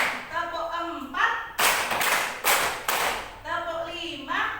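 Fifth-grade pupils clap in unison during a classroom counting game, several crisp clap bursts set between stretches of chanting voices.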